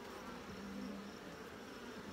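Honey bees buzz steadily around an open hive full of capped brood frames, a dense, close hum with a few louder passes near the surface.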